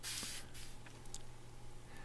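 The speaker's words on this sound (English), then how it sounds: "I'm going to spray it with Super 77 spray adhesive made by 3M." A short, close hiss of 3M Super 77 spray adhesive being sprayed onto poly batting for an upholstered tufted seat. The hiss is strongest at the start and fades into a quiet room.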